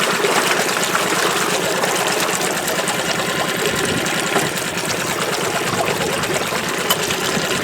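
A vintage 1976 Mercury 20 hp outboard motor runs steadily at close range, a dense, even buzzing drone with a fast chattering rhythm that stays loud and unbroken throughout.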